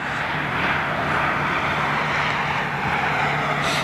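A 28-year-old Boeing jet taxis along an airport taxiway, its engines giving a steady, broad roaring whine at moderate distance that holds even throughout.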